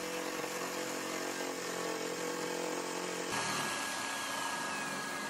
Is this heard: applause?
no